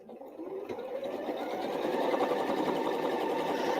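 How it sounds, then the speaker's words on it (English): A sewing machine stitches a line along fabric for a scrap place mat, a rapid, close mechanical whirr that starts softly and builds to a steady, even rhythm. "And I'll sew this last line on."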